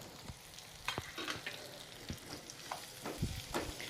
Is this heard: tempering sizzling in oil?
yes